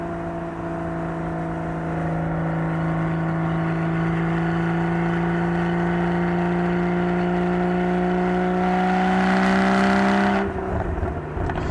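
A Porsche 981 Cayman GT4 engine drives steadily, a loud, sustained whirring drone rising gently in pitch over about ten seconds before easing off abruptly near the end.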